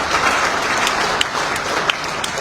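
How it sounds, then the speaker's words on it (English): An audience applauds at an official launch ceremony for an Executive Mansion communication internship, a continuous, fairly loud spread of clapping with a few sharper claps popping out. "I want you to give me an applause."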